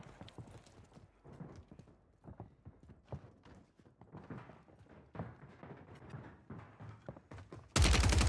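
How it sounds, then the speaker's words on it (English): Rapid, dense footsteps in Call of Duty on Rebirth Island, a busy patter of many steps close by, followed by a sudden loud burst at the end. "a lot of footsteps."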